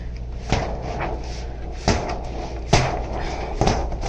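A loose cabinet door on a Grand Design 2910BH RV squeegee cabinet swings open and knocks, several close, hollow bumps and clacks spaced irregularly over a steady background hum.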